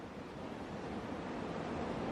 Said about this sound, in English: let's turn on our soothing ocean sounds ASMR and begin